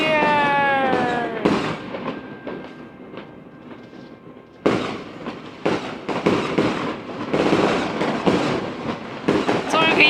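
New Year 2017 fireworks crackle and bang in rapid clustered bursts, loud and fairly close, with whistling launches near the start and people talking in the background.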